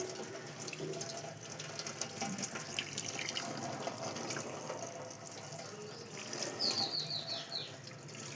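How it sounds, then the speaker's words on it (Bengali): Tap water runs steadily into a sink while jackfruit is washed and rubbed under it, a close continuous splash and trickle with faint bird chirps in the background. "এবার এই যে ধুয়ে নিচ্ছি এঁচড়ের, এই দেখো আটাটা সম্পূর্ণ বেরিয়ে যাবে"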